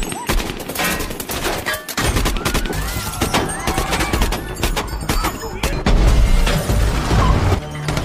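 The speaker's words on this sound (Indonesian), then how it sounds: "terjadilah baku tembak di sana" Heavy gunfire erupts in a film shootout between bank robbers and police, with dense bursts of shots and crashing impacts sounding loud and continuous, with some voices underneath.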